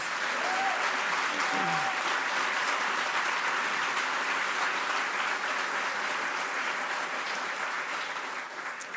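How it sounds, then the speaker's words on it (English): A large audience at a State of the City address applauds the city team, steady dense clapping filling the hall for the whole stretch, with a brief voice heard early on. "So let's give our entire team another round of applause."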